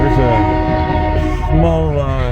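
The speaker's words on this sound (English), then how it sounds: "a small manifest train that's come in" A small manifest freight train pulls into a rail yard in Fremont, Nebraska, its horn sounding loud and close in one sustained, chord-like blast.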